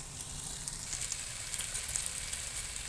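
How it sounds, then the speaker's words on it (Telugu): Fish pieces fry in oil for a fish curry, giving a close, steady crackling sizzle with fine popping that lasts the whole time, with no voices. "చూసారా, ఫిష్ చక్కగా వేగుతుంది."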